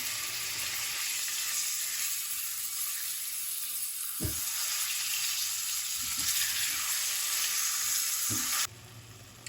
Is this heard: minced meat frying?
yes